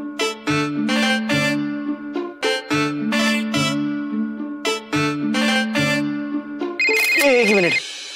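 A phone ringtone plays a bright, looping electronic melody, loud and close, its repeated notes ending in a quick gliding sweep.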